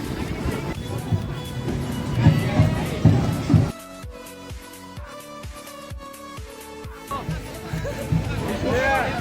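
A dense crowd at a Ganesh festival procession in a village, a steady babble of many voices with nearby talking, and a short stretch of tonal music in the middle.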